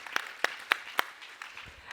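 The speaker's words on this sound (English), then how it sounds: "I want a round of applause for that question." A handful of sharp, distinct claps ring out in a roughly even rhythm at a corporate leadership panel, a few more scattered softer claps trailing after, sparse rather than a full ovation.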